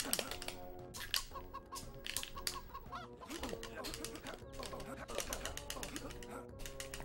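Chickens clucking in the Shrek Extra Large video game, busy repeated clucks and squawks over game music and mechanical clatter, with a voice talking underneath.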